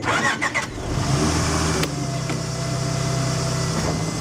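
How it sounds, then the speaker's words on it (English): A 2003 Acura CL Type S engine cranks with a few quick churning bursts, then catches and settles into a steady, close, even idle hum that holds to the end. "Let's start it up real quick."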